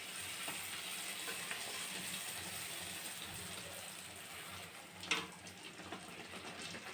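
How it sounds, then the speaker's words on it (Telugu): Puris deep-frying in well-heated oil, a steady close sizzle and bubbling hiss throughout with one brief louder splash or stir partway through. "మనము పూరీలాగా వేసుకున్నామండి. ఆయిల్ బాగా హీట్ ఉండాలండి."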